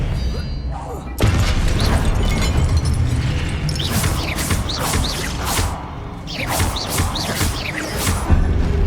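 An Expelliarmus spell is cast in a wizarding video game, bursting in with a sudden booming impact and then a dense, roaring rush of whooshing magical energy that sustains loudly over the following seconds.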